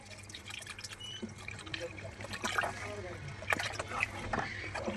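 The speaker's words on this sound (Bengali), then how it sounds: "এখন আবার পানি দিয়ে দিব" Water pours and trickles into a pot of beef curry with potatoes that has been fried with spices, a steady splashing run with a few brighter drips, heard close over faint kitchen background.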